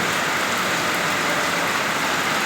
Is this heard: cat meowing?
no